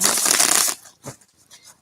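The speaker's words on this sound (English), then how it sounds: "Couple final shuffles. We're going to use the traditional deck today." A traditional tarot deck is shuffled by hand, a dense riffling rush of card noise for under a second, followed by a few soft taps and flicks as the cards settle, close and alone.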